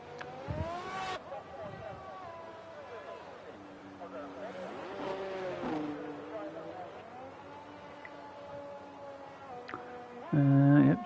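A Red Bull Formula 1 car in an F1 racing video game at San Marino, heading toward the Villeneuve chicane, its high engine whine rising and falling in pitch beneath continuous race commentary.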